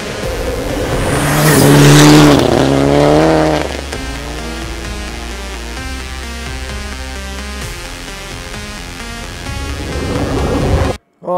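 Classic rally car sweeping past at speed, its engine note rising loud to a peak and then dropping in pitch as it pulls away, with a further engine swell toward the end before an abrupt cutoff.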